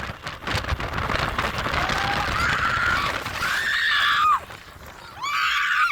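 People in a car screaming in alarm as they film a highway accident, several shrill rising cries over steady road and cabin noise, with a final scream near the end.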